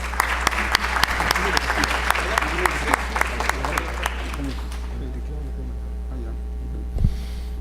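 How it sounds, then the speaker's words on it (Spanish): Applause in a university law faculty symposium hall greets a speaker introduced as a former production and agriculture minister, dense and steady for about five seconds before thinning out, with a low mains hum running beneath. "Lo recibimos con un fuerte aplauso"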